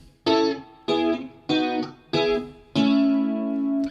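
Electric guitar through a subtly set chorus pedal plays five strummed chords with a gentle shimmering modulation, the last chord ringing out longer; no voices.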